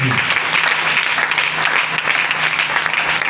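A seminar audience breaks into loud, dense applause, a continuous wash of clapping from many people throughout.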